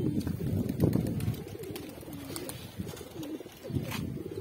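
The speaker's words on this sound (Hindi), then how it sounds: "जो मेरा उड़ने वाला कबूतर है वो ये देखिए कैसे ये सारे के सारे उतर गए हैं" Several pigeons coo in soft, rolling calls, repeated throughout against faint outdoor background noise.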